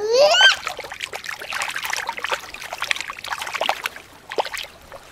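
A toy great white shark goes back into bath water with a splash and a trickle at play time, beginning with a high child's squeal and followed by soft, close, irregular sloshing and dribbling.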